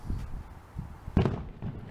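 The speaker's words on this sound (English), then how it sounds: "Got some fireworks going and yeah, stuff like that. It's gonna be noisy." Fireworks bursting on the 4th of July: a few dull, low booms spread across the moment, one stronger close blast standing out among softer distant thumps, with no talk.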